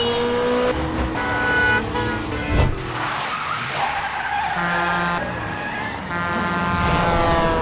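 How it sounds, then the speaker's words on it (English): A film car chase roars loudly with engines revving and tires squealing and skidding in sustained bursts, no talk over it. "Moments later, a tense car chase begins."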